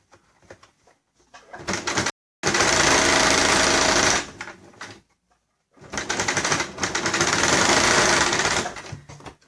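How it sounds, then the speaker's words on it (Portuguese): Home sewing machine stitching across an invisible zipper and bias binding, running in two long loud bursts separated by a brief stop, with short start-stop runs at the beginning. "Vou costurar por cima do zíper."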